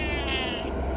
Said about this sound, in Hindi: मेरी प्यारी बिल्ली, मेरे पास आओ।